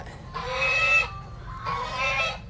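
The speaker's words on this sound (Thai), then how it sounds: "ถัดมาตรงนี้ก็จะเป็นห่านนะครับห่าน อ้าวร้องละร้องละ" Geese on a mixed farm give two loud, harsh honking calls close by, each about a second long with a short gap between, over low background rumble and no talk.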